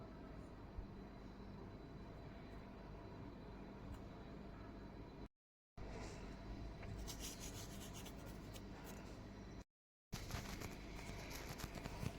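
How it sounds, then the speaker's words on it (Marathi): Paneer being grated on a handheld coconut grater in a home kitchen: a steady, close rasping and scraping that runs almost continuously, broken by two brief silent cuts, with no talking. "इथं मी खोबरं किसायची किसणी घेतली आहे. त्याच्याने मी आता हे पनीर बारीक करून घेते."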